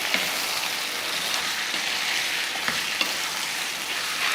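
Marinated chicken is added to sautéed onions in a pan and stirred, giving a steady, close sizzle and frying hiss with soft utensil scrapes throughout and no talking.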